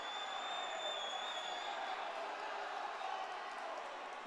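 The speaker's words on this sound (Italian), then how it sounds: "Gli applausi ironici del pubblico." Ironic applause rising from a football stadium crowd, a steady distant wash of clapping and murmur with faint whistles, fairly quiet and continuous throughout.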